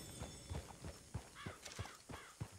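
A horse in Red Dead Redemption 2 walks with steady, close clip-clop hoofbeats, then gives a short snort or whinny near the middle, all heard alone without talk.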